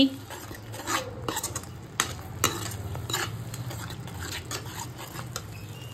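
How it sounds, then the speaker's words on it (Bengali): Kasuri methi being stirred into spices in a pan for chana masala, with a soft sizzle under repeated scraping and clinking of a spoon against the pan. "কেসুরি মেথিটাও সমস্ত মশলার সাথে ভালোভাবে মিশিয়ে নিচ্ছি"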